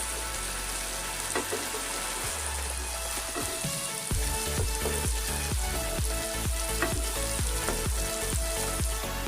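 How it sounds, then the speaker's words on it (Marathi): Whole boiled eggs fry in a pan for a South Indian egg curry, turned over now and then, producing a loud, continuous sizzle. A regular beat-like pulse runs underneath. "एक 2 वेळा असं उलट पालटी करून फ्राय करून घ्यायचे"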